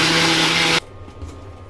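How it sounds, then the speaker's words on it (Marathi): A kitchen mixer grinder whirs loudly while grinding dry garam masala spices with the lid on, then cuts off abruptly, leaving a quiet low hum. "मिक्सर चालू करायचं"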